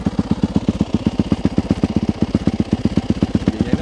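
A Yamaha 450 supermoto motorcycle idles close up, a loud, steady, rapid thumping pulse with a rattly resonant edge, holding an even rhythm throughout with no talking.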